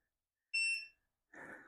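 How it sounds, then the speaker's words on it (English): An air conditioner gives a short electronic beep with a bright tonal ring on power-up, then a brief burst of whirring noise follows as the unit starts. "No, we should hear some beeps"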